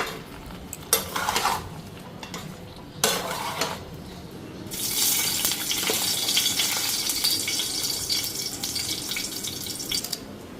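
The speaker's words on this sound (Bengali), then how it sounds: "এখন একটু লাড়া দেয়া দিতেছি।" Ingredients for shahi paneer, with bay leaf, potato and salt going in, are stirred in a sizzling pan, with scraping and clinking of the utensil against the pan, then steady loud frying from midway on.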